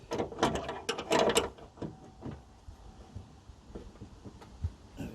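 An open-ended spanner tightens the bonnet strut bracket on a VW T4 van with a few close metallic clicks and scrapes, busiest at the start, then sparse faint taps.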